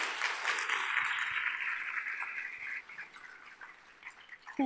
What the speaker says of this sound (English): Another round of applause for Sophie.